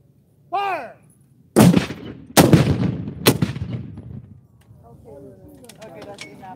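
Civil War reenactment cannons in Camp Verde, Arizona fire one after another from the right, three booming blasts about a second apart with rumbling echoes. A shouted command comes before them and voices follow.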